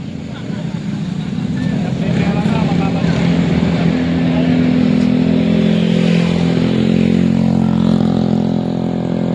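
A motorcycle engine idles and revs close by, its droning hum rising and falling while people talk over it.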